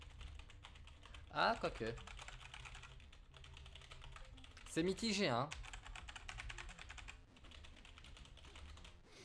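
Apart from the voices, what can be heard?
typing on computer keyboard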